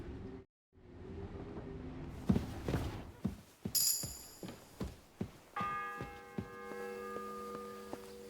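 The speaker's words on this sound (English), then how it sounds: "The fourth bell." A church bell rings in the medieval game Kingdom Come: Deliverance 2, a series of struck tolls with long ringing decay, fairly quiet over ambient town sounds.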